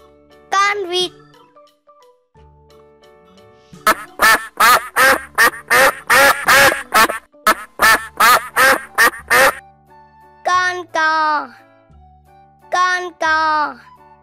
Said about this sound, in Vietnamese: Con vịt.